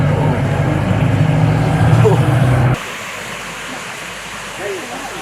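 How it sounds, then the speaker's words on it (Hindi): Amitabh Bachchan Waterfall near Lachung, Sikkim, gives a loud, steady rushing roar of falling water for about three seconds, then drops abruptly to a much quieter background. "इसलिए वाटरफॉल का नाम है अमिताभ बच्चन वाटरफॉल"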